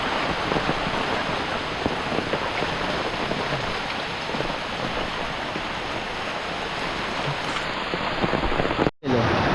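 Heavy monsoon rain pours down at a village riverside, a dense, steady roar of drops that stays loud and even throughout, cutting out briefly near the end.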